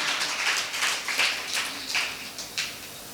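A church congregation claps in praise, a dense, steady round of hand claps with pulsing swells, fairly near and with no voices over it.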